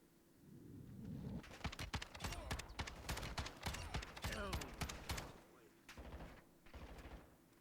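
Rapid shotgun blasts from the doof shotgun in Building 21 in a first-person shooter game, a dense volley of sharp booming shots firing in quick succession, loud and close, easing off toward the end.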